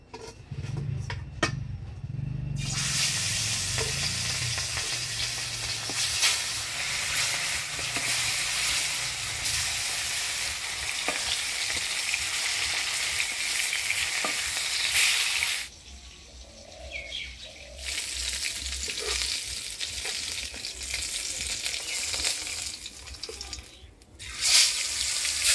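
Tilapia fish frying in hot oil in a wok, a loud continuous sizzle that holds steady for a long stretch, dips briefly partway through, then surges again near the end.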